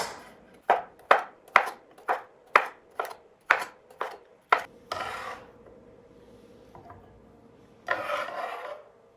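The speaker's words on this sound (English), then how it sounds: "Let me just get this chopped up first" Vegetables chopped with a knife on a cutting board for chicken gumbo: about nine crisp, evenly spaced chops close by, then a scrape across the board and a brief rustle near the end, with no talk.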